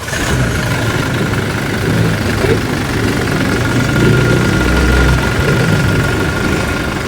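Toyota Fortuner engine running at idle in a workshop after service, a loud, close, steady rumbling drone with a constant hum, while people talk over it.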